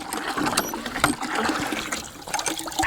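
Water from a homestead well running steadily out of a tap or hose, a continuous close splashing and gurgling rush with no pauses.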